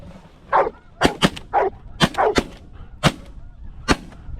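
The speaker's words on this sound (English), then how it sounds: "Nice shot, Cole." Shotgun blasts ring out during a rainy goose hunt, several sharp, loud reports spaced irregularly, mixed with honking geese calling close by.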